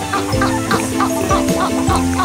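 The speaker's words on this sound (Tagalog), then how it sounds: "Tayo po ngayon ay magpapakain ng ating mga manok." Several chickens clucking close by, a busy overlapping chorus of short, throaty calls repeating steadily.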